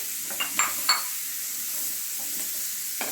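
Carrot, capsicum and red bell pepper sautéing in a pan for egg salsa, a steady soft sizzle with a few light stirring scrapes and clinks near the start and end.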